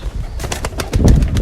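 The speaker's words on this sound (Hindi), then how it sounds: "कबूतर आपके सामने है दोस्तों" Pigeons kept by a fancier coo close by in a repeated, throaty rhythm, with soft wing and body rustling and a few sharper clicks mixed in.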